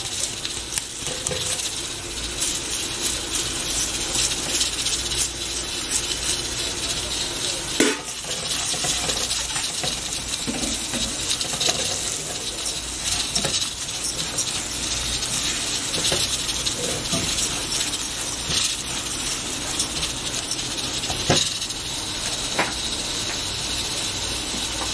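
Washed rice cooks in a pan for a Minas Gerais style lunch, a steady sizzle and hiss with frequent scraping stirs and occasional metallic clinks of a utensil against the pan.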